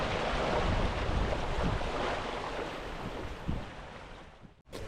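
Ocean waves wash around a sailboat on the open Pacific near the equator, a loud continuous rush of surf mixed with wind noise, briefly dropping out near the end.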